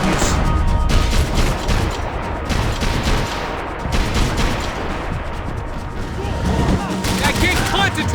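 Dense Max Payne 3 gunfight with rapid bursts of gunfire and bullets whizzing by, loud and continuous, with shouted voices mixed into the chaos.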